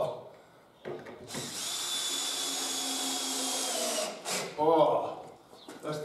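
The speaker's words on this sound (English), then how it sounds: "wind them in with the screwdriver" Power screwdriver winding screws into wall plug sleeves while building timber stud walls in a bungalow: a steady whirring drive lasting a few seconds, then brief bursts and knocks, fairly close.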